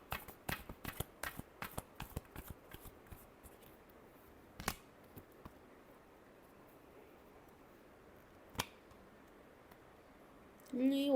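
Tarot cards being shuffled by hand: a quick run of crisp riffling snaps at first, then sparse single flicks over a quiet background, ending with a brief voice.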